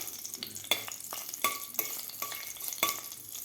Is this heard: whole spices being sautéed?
yes